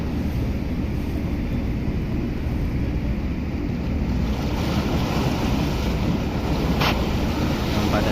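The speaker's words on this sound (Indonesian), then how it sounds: "Pada saat ini kebetulan saya sangat suka ya melihat deburan ombak ini." Ocean surf breaking on rocks along a coast, a steady loud wash of crashing waves with wind noise buffeting the microphone throughout, no voices.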